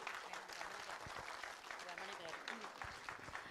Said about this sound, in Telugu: ఒకసారి గట్టిగా చప్పట్లండి